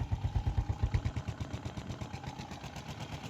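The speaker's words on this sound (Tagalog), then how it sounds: "Napakatahimik ng makina. So maganda talaga itong mga XR110." An XRM 110 motorcycle engine, long left in storage and with a cracked exhaust pipe, runs at a fast, steady idle with a rhythmic chugging pulse, heard close and alone.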